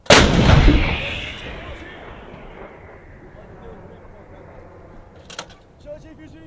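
An M777 towed 155mm howitzer fires a single loud, close blast that decays into a long rumbling tail, with crew voices calling out afterward.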